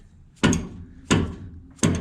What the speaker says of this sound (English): So we will use the persuader, and because I value my wrenches, I use a rubber hammer.